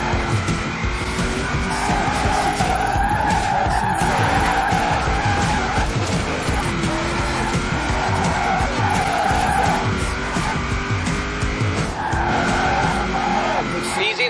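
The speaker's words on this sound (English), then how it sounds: "Now let's really shred those tyres." Tyres squeal continuously as a car drifts hard through tight turns in Forza Horizon 4, the engine roaring loud and close throughout, with talk heard over the screeching.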